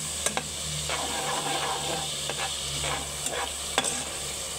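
Sopas ingredients frying in a pan with a steady, even sizzle, while a spoon scrapes and stirs with a few sharp clinks against the pan.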